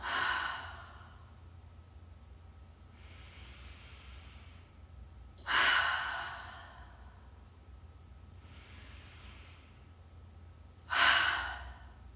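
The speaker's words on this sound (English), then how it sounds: "Taking a few more deep breaths here." Deep breathing during a yoga practice: three slow, audible exhales like sighs, each followed by a softer, quieter inhale, evenly spaced and close to the listener with no talking.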